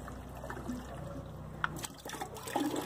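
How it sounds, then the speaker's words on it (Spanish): Water flushing and trickling out of a Ford Mustang coolant reservoir as it is washed out, a steady close splashing flow with a few louder gurgles and spurts. "ahorita lo estamos lavando más adentro, miren cómo va a salir el agua"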